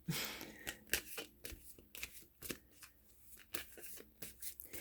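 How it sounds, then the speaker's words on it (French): Tarot cards are shuffled and rearranged on a table, soft close papery slides and taps arriving in an irregular quick rhythm, fairly quiet with no talking. "Je suis désolée, j'ai juste replacé les cartes un petit peu."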